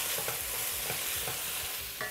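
Pork with chili oil and a little sugar is stirred in a pan for a braised tofu pot. A spatula makes repeated scraping strokes over a soft, steady sizzle, close and continuous, with no voices.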